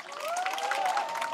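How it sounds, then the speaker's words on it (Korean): Residents clap at a thank-you event in a rural township, a brief, fairly quiet burst of crowd applause with a voice or tone running over it. "박수 좀 치십시오"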